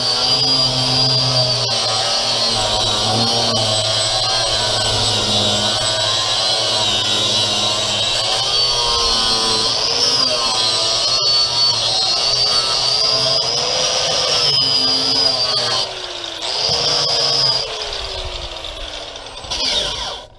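A Warrior 8-amp 4.5-inch angle grinder with a 60-grit flat disc stripping a wooden deck, a loud continuous high whine with shifting pitch as it bites the surface, close and with no talk.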